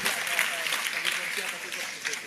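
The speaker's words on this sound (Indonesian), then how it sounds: "Tepuk tangan." Audience applause fills a nighttime sinau bareng community gathering, a dense, steady patter of many hands that stays close and fairly loud for the whole stretch with no clear pauses.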